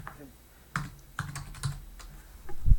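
Typing on a computer keyboard while entering names into a spreadsheet, a handful of sharp close key clicks spaced irregularly, with a soft thump near the end.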